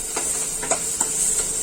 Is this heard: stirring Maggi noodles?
yes